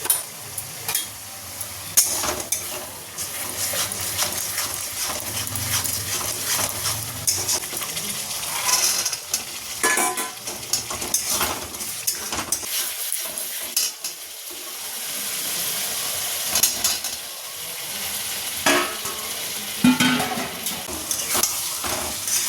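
Half-boiled potatoes are sautéed in a pan with salt, turmeric, cumin powder and Kashmiri chili powder, giving a steady close sizzle broken by repeated scraping stirs and metallic clinks of a spoon against the pan.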